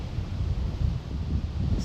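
Wind blowing outdoors in Oregon, a low gusty rumble buffeting the microphone with faint rustling, steady and fairly loud throughout the short stretch.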